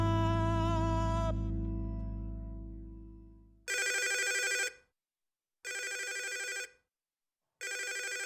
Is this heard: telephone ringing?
yes